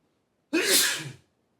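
A single sharp sneeze bursts out after a moment of silence, loud and close, trailing off quickly into quiet.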